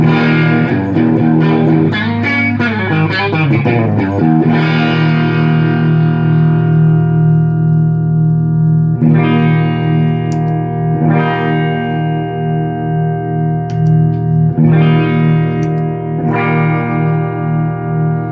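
An electric guitar played through Bo's harmonic tremolo and delay pedal: quick strummed chords first, then long sustained chords that pulse and shimmer, each struck again every few seconds, loud and alone without any voice.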